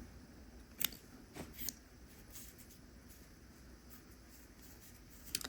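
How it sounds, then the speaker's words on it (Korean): Scissors snip through crochet yarn in a few soft, quiet cuts, the clearest near the start and one more at the end, against a hushed room background. "실을 잘라주세요"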